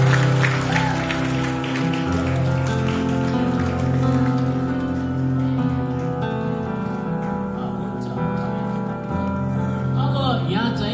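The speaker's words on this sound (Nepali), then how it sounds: "ताली बजाउनुहोस्" Guests at a wedding ceremony applaud in a sustained patter of many hands, heard beneath a steady music track that carries on throughout.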